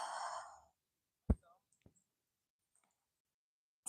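A deep, breathy exhale during a morning yoga session, close and soft, trailing off into quiet with a couple of faint clicks afterward.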